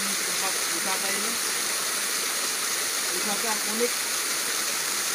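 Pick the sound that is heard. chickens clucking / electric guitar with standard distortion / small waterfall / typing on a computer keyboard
small waterfall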